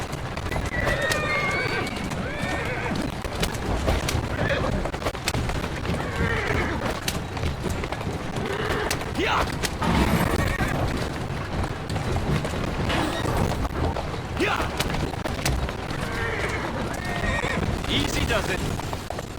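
Horse-drawn carriage in Assassin's Creed Syndicate, with brisk clip-clop of hooves, snorts and whinnies, rolling wheels and street bustle running throughout while characters talk over it.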